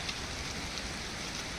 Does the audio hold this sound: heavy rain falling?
yes